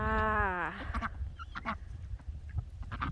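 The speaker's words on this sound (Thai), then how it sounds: "เลี้ยงเป็ดเลี้ยงเป็ดไว้กินไข่" Farm ducks raised for eggs give a loud, nasal honking quack near the start, followed by a few shorter, fainter calls and scattered farmyard noises.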